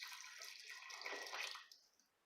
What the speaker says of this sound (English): I'm going to add 1 additional cup of water here